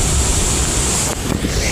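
Loud, continuous broadband rushing of floodwater during heavy rain, close and unbroken apart from a brief dip midway.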